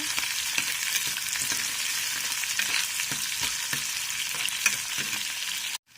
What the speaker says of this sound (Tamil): வெங்காயம் நல்லா பொன்னிறம் ஆகிற வரைக்கும் நல்லா வதக்கிக்கோங்க.